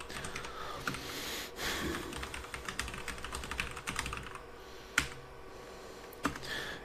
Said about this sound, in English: And I'm going to just type in a few.